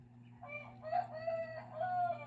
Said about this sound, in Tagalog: maingay ang ating mga kapitbahay na manok